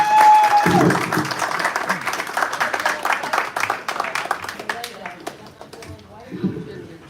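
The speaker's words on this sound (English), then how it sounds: "Let's give her a round warm of applause." Warm audience applause at a conference as a speaker is welcomed to the podium, a dense burst of clapping that thins out toward the end, with a voice briefly heard at the start and close.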